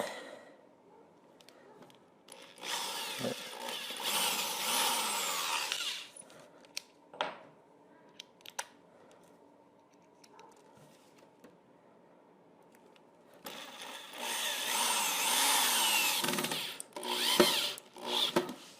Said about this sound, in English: Then I come back and take this one out and countersink it.